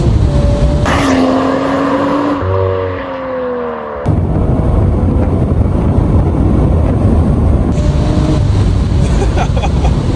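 BMW M135i engine revving hard through a 0 to 100 acceleration run, pitch climbing through gears with brief shift drops, loud and close inside the car with heavy wind and road roar.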